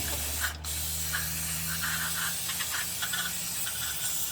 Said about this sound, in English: So we're going to take some brake clean.